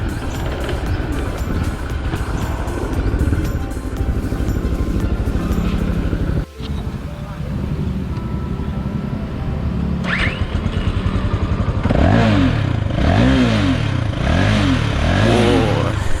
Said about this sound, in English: let's stop aside and listen to its exhaust note.